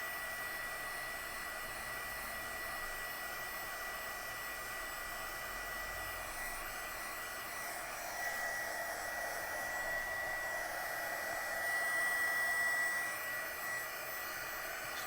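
A hair dryer blows steadily on wet acrylic paint, a faint continuous whooshing hiss with a slight rise in airflow partway through.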